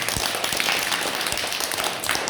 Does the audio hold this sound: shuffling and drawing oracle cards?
no